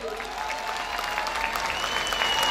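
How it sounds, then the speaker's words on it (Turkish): A packed open-air square crowd at a Black Sea regional festival in Zeytinburnu applauds itself, steady dense clapping throughout with a faint sustained tone above it. "Kendinizi bir alkışlar mısınız?"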